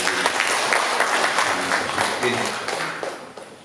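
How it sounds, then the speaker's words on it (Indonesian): An audience at a PGRI Jember teachers' association conference breaks into sustained applause, a dense wash of many hands clapping at once that stays loud and then begins to fade near the end. "sesepuh saya, tepuk tangan untuk Pak Adi."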